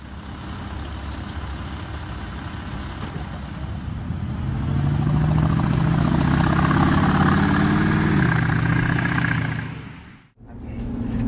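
Porsche Cayenne Turbo engine and exhaust idling at a steady low rumble, swelling briefly louder midway with a slight rise in pitch before settling, with a short dropout near the end.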